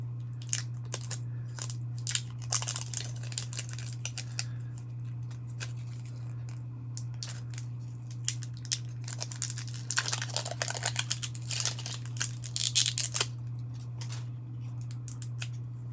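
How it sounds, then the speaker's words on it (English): Scissors snip and cut through craft material at a work table, a run of crisp close clicks and crunches that come in uneven bursts and get busier toward the end, over a steady low electrical hum. "Try not to cut yourself, Rebecca."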